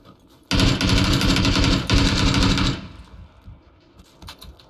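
Sustained automatic AK rifle fire in a video game, a close, loud rapid stream of shots lasting about two seconds with a brief break in the middle, then quieter background noise.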